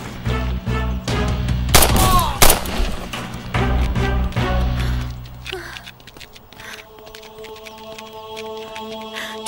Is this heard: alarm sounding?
no